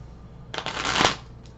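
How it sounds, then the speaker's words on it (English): A quick riffle shuffle of a tarot deck, a soft fluttering burst that swells over about a second, close up with no talking. "Quick shuffle here on camera so you know I'm not rigging the deck."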